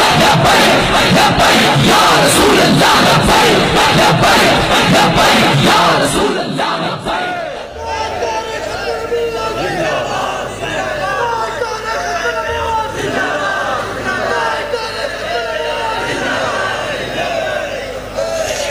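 A large crowd at a religious gathering roars a slogan in unison, loud and dense for several seconds, then drops into a sustained hubbub of many voices murmuring and calling out.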